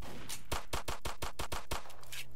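Rapid bursts of gunfire aimed at slow zombies in the Roblox game The Living Dead, about a dozen sharp, evenly spaced shots in a quick steady rhythm, loud and close with no talking.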